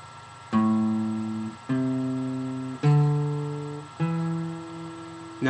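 A guitar plays a minor pentatonic scale pattern with a hammer-on, five clear plucked notes in an even, unhurried sequence, each ringing and decaying before the next, close and alone with no talking.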